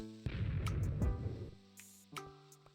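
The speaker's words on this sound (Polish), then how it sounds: "Mam wrażenie, że creepery mocniej wybuchały." A creeper blows up in Minecraft, one loud booming blast with a rumbling decay over about a second, followed by quieter game sounds and small thuds.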